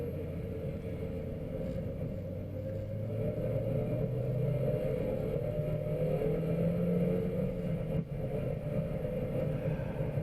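A racing car on the Hallett circuit in the rain gives off a steady engine drone with a slowly rising pitch. The sound is fairly distant and continuous, with spray and road noise mixed in and no talking.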